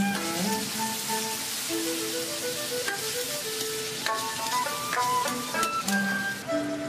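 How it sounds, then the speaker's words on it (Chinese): Soaked spices for a spicy hotpot base stir-fried in a wok, a dense steady sizzle with scraping and clinking of a spatula against the wok, close and continuous throughout. "继续翻炒出味。"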